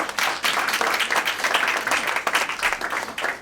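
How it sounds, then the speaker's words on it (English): Audience at a Bronx community forum applauding a radio DJ panelist, a dense, lively round of clapping filling the room throughout, with faint voices mixed in. "please give him a round of applause"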